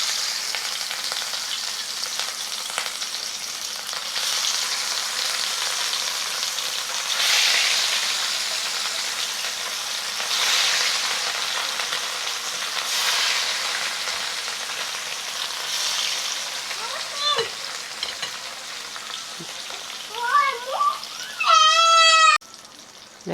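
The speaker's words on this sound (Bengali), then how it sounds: "এখন কড়াইয়ে মাছগুলো দিয়ে দেব।" Pieces of rohu fish fry in hot oil in a wok, a steady broadband sizzle throughout, with a cat meowing several times near the end.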